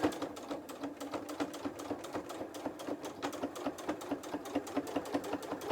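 Sewing machine stitching steadily across a thread start point on a fat quarter fabric book cover, a fast, even mechanical chatter of needle strokes running close and continuous throughout.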